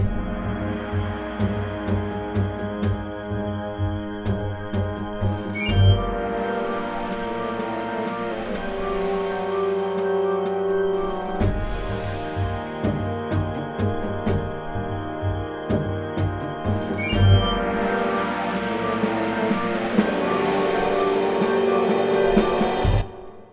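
Full orchestral introduction with swelling, dissonant bitonal chords, sustained strings and brass rising and falling in broad waves, no voices.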